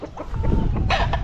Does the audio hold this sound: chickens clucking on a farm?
yes